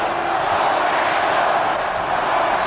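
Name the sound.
football stadium crowd chanting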